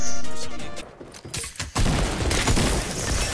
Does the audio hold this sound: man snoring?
no